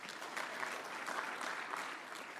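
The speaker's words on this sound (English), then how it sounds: "That deserves a round of applause." An audience at a University of South Africa autumn graduation ceremony gives a round of applause: soft, even, continuous clapping from a large crowd, heard from a distance and at low level.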